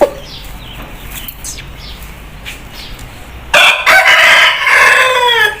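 A prize aseel fighting rooster crows one loud, close, drawn-out cock-a-doodle-doo that comes in after a few quieter seconds of faint background chirps and clucks.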